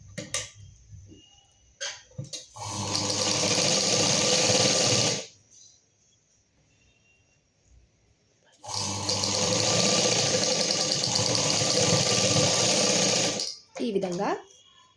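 A sewing machine stitches lehenga latkan thread in two long, loud, steady whirring runs close by, each lasting several seconds, with short gaps of quiet handling and a brief voice near the end.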